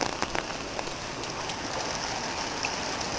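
Heavy rain drums continuously on an overhead patio roof, a dense, loud patter with occasional sharper drips.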